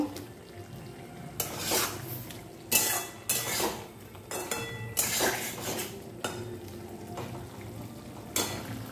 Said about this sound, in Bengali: এর মধ্যে আমি ওলগুলো দিয়ে দেব। একটুখানি নাড়াচাড়া করব।